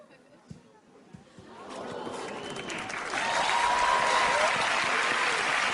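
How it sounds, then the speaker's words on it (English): A studio audience at a televised magic show applauds after a card memory trick, the clapping swelling from light scattered claps into loud, sustained applause with some cheering. "I cannot accept that much applause for a subpar memory demonstration"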